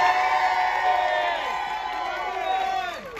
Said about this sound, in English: can we get a big round of applause as we introduce the 16th president of Lamar University